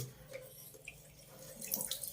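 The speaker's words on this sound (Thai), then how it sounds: "อ่าน้ำไหล" Water flows from a household tap during a power outage, a faint, steady splashing with a soft hiss that swells slightly toward the end, with no voices.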